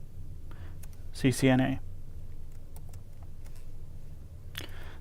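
Scattered, sharp keystrokes on a computer keyboard while a router is set up for EIGRP, a cluster near the start and a few isolated taps later, with a brief burst of speech in between.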